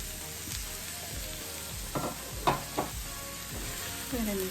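Carrots and onions sizzle steadily in an old frying pan, with scraping stir strokes and a few clatters of a utensil against the pan.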